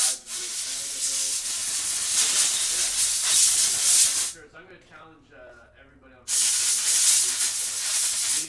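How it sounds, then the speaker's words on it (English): Close, loud blasts of compressed air spraying a bicycle part, a long steady hiss of about four seconds, a brief pause with someone talking, then a second sustained burst. "Sorry for that noise, everyone. I had to air spray this."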